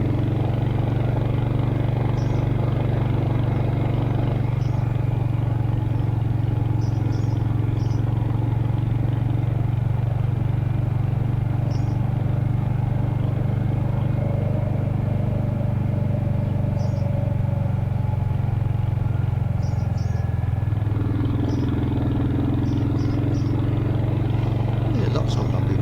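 A Hunter motorcycle rides along dried-up country lanes in early spring, its engine giving a steady low drone with wind noise throughout while someone talks over it.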